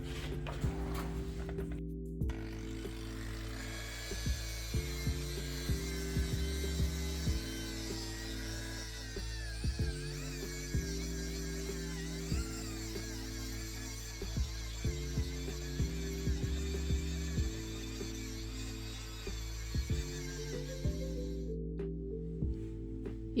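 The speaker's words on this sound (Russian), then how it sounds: "После высыхания воска с помощью вот такой вот меховой насадки" A power tool with a fur buffing attachment polishes wax on Venetian plaster, giving a steady close motor hum broken by regular rhythmic rubbing pulses as it moves over the wall.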